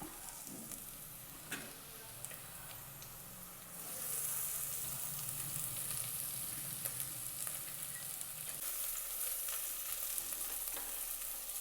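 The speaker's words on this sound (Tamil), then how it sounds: "இஞ்சி பூண்டு பச்சை வாசம் போகிற அளவுக்கு கொஞ்சம் வதக்கிடுங்க" Crushed ginger and garlic sauté with softened onions in a pan, a quiet, steady sizzle with occasional utensil taps that grows brighter and hissier partway through as the frying intensifies.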